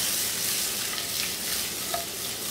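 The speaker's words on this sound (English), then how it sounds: "Now I'm browning them for 2 reasons." Chicken pieces browning in a hot pan give a loud, steady, close sizzle with a constant frying hiss throughout.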